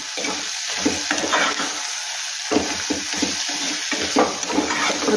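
Vermicelli being stirred into spiced vegetable upma in a pan, heard as continuous sizzling and scraping with bursts of stirring over a steady hiss, close and fairly loud, with no talk.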